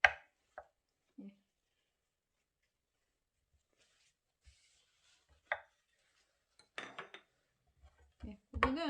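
Knife mincing meat on a cutting board for a Korean rice porridge, heard as sparse, quiet taps and knocks separated by long silences, a few closer clustered chops near the end.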